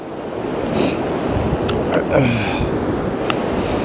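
Steady broadband rush of a strong mountain river near Everest Base Camp roars throughout, dense and close, with a few brief clicks and wind buffets on top.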